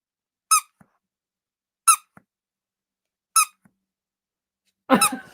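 Squeaky dog toy squeezed four times at steady intervals about 1.5 seconds apart, each a short, high-pitched squeak standing alone in quiet, with the final one a bit longer and harsher.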